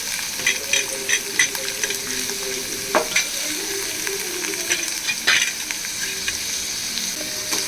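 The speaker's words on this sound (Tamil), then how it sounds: "ஒரு ஆனியன், சின்ன வெங்காயம் ஆனியன் போட்டு வதக்கிடுவோம். கருவேப்பிலையும் போட்டுருவோம்" Small onions and curry leaves fry in a pan for a dried fish curry, a constant sizzle punctuated by sharp scrapes and knocks of a spoon stirring against the metal, close and without voices.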